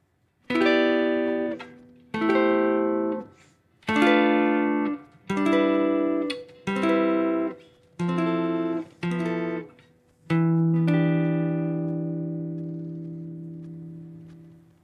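Seven sustained jazz chords on an electric keyboard, each held about a second with short gaps, the last ringing out longer and slowly fading.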